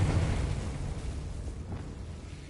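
A Confringo blasting spell in Hogwarts Legacy erupts in a deep, rumbling boom at the start, decaying into a fading low roar.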